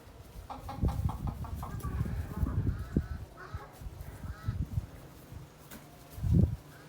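Chickens squabbling as a male rooster scraps with young chicks, with a burst of short clucks and squawks up close, then scattered calls and a low flutter near the end.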